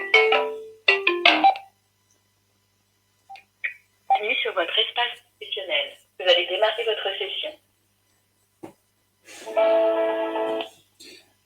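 A telephone rings in several separate electronic bursts with silent gaps between them, clear and close, with a voice also speaking during the clip.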